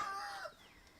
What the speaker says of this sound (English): with all the roosters out, and it's so hot, they're just like super verbal.